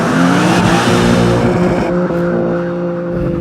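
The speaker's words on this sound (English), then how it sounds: "let's drive an M2 in the canyons" A 2023 BMW M2 pulls hard through a canyon road, its engine note loud and close with a steady harmonic drone that eases slightly toward the end, with faint hints of tire noise.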